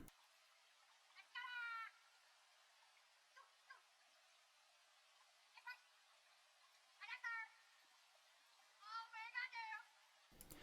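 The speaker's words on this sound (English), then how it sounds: "And then a bird call type texture that sounds like this." Bird call type texture in a dark trap sample, with lows and highs cut and the level pulled well down: faint chirping calls in short bursts over a low, steady hiss.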